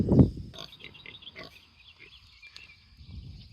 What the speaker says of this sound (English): pigs are out.